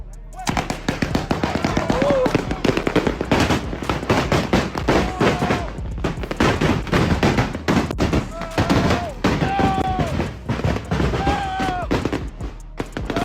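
Fireworks go off at a street gathering, one tipping over and firing sideways. Rapid overlapping crackling bangs pop continuously for over ten seconds amid loud crowd shouting and chatter, with whistling rockets rising at intervals.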